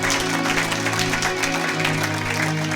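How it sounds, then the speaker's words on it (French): A church congregation applauding and cheering, steady dense clapping from a crowd throughout, with a sustained musical or vocal tone underneath. "Acclamez pour la gloire de notre Dieu."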